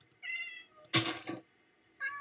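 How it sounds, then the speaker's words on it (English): A cat in the Minecraft video game meows twice, clear and close, with a louder noisy sound between the two calls. "if you put a lead on a cat and then just take it out for a walk"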